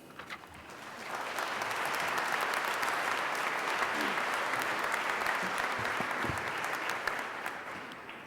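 Sustained audience applause at a winter commencement ceremony welcoming the main speaker, swelling after a second and holding steady as a dense, even clatter of many hands.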